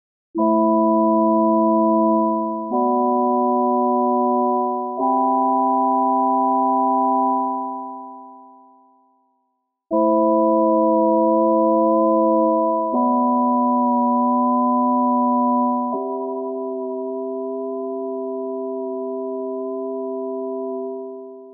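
Sustained S.K.Y. Keys keyboard chords with a subtle cassette flutter effect, a soft, slightly wavering tape-like tone, changing every few seconds; the first phrase fades out before a second set of chords begins.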